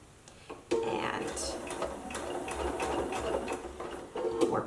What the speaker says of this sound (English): go ahead and sew your seam all the way around the top of the stocking